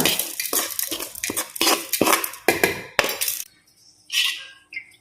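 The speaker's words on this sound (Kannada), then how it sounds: "ಈಗ ತಣ್ಣಗೆ ಆದಮೇಲೆ ಇದನ್ನೆಲ್ಲ ಒಂದು ಮಿಕ್ಸಿ ಜಾರಿಗೆ ಹಾಕುವ" A metal spoon repeatedly scrapes and taps against a mixer jar while adding cooled ingredients for chutney, in quick, uneven strokes, followed by a couple of quieter clinks after a pause.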